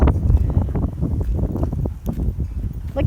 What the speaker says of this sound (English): We got 20-mile-an-hour winds from the south.